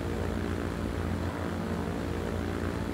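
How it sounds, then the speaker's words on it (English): An airplane in Transport Fever 2 rolls down the runway for takeoff, its propeller engine giving a steady, droning hum at constant loudness throughout. "we can see the other plane getting ready to take off"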